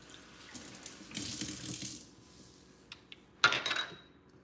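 Liquid, blight seed bitters, pours from a bottle into a shot glass in a steady trickle lasting about a second, then a light clink and a second short, brighter splash, close and fairly quiet.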